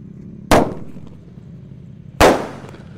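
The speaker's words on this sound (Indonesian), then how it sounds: "di sini ada mercon Lang Mas ya, meledosnya 2 kali di bawah dan di atas" A Lang Mas firecracker going off twice, once low and once higher, two sharp loud bangs about two seconds apart, each with a short fading tail over quiet outdoor background, no talking.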